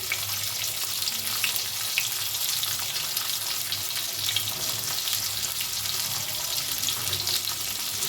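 Slit fresh green chilies frying in hot oil for masala paneer, a steady dense sizzle and crackle that holds evenly throughout, close and fairly loud with no voices.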